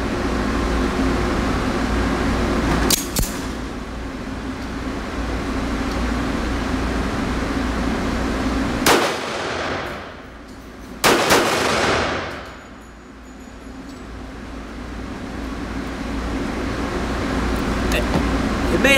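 A Tisas 1911 pistol in .45 ACP fired two-handed outdoors, with a few sharp, loud, widely spaced shots standing out over steady wind and background hum, and people talking in between.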